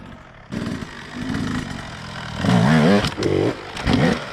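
An enduro motorcycle revs on a Super Enduro track with short rising blips and throttle bursts near the microphone, rough and uneven between surges.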